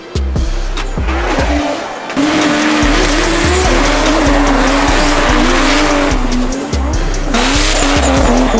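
A Nissan and an Opel race car battle in a Portuguese championship, engines roaring at high revs under continuous loud tire squeal and skidding, with a brief dip around the second mark before the screeching resumes.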